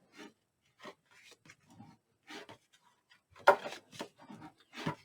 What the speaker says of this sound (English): Just take my time and burnish